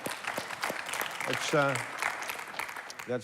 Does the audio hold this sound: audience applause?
yes